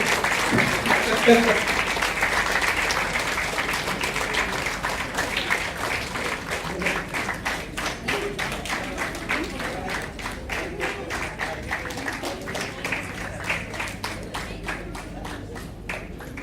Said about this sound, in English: I think I could ask you to keep clapping throughout